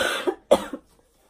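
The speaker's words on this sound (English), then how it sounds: "I had a cough for such a long time and I can't get rid of it" Two harsh coughs close together, near and fairly loud, followed by silence.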